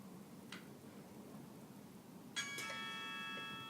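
A handheld bell strikes once with a bright metallic ring that lingers with steady, sustained overtones, after a faint earlier tap, over low background hum.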